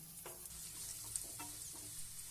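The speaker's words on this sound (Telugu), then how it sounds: "ఇందులో ఒక హాఫ్ టీ స్పూన్ అంత పసుపు వేసుకొని 1 నిమిషం పాటు వేయించుకోండి." Onions fry with a half teaspoon of turmeric in a pan for a carrot fry, giving a faint, soft sizzle broken by a few gentle stirring scrapes.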